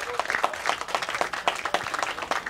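Audience applauds the captain during the presentation of the Riccione Calcio 2018-19 football team, a steady crowd of many hands clapping at moderate loudness with individual claps popping out across the whole stretch.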